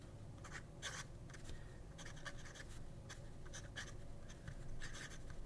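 A fountain pen fitted with a fine Schmidt nib scratches across paper in short, close strokes, with a faint steady hum underneath.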